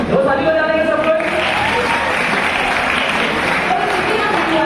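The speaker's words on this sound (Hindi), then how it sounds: "सब दो ताली बजा देंगे सब लोग" A youth camp audience in Rourkela breaks into sustained group clapping that fills the room at an even level. A speaking voice carries over the opening moments.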